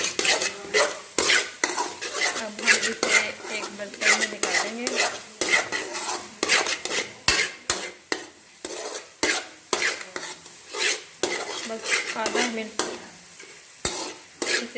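Coconut milk halwa being stirred and roasted in a pan, a spoon scraping and clinking steadily against the metal with soft sizzling underneath, close and continuous with no talking.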